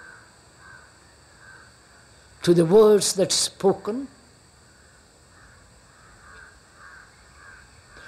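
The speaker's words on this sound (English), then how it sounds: "Actually listening to that crow" A crow caws outdoors during a public talk in Madras (Chennai), a burst of several harsh caws in about a second and a half, loud against a quiet background, while someone speaks.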